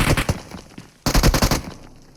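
Rapid automatic gunfire from PUBG Mobile comes in two loud bursts of quick repeated shots, the second after a short pause, then fades.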